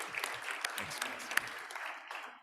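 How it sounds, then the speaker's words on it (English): A short burst of applause for speakers at a World Water Week panel, a small group clapping with a few sharp individual claps standing out, fading within a couple of seconds, with some voices mixed in. "Let's Let's have a quick round of applause."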